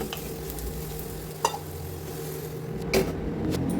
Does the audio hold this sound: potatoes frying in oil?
yes